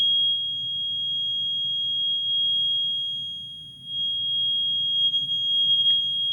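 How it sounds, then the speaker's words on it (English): A fire alarm sounds one continuous, piercing high-pitched tone for the whole stretch, unbroken and steady over a faint low background rumble. "I'm gonna go check out why the fire alarm is going off"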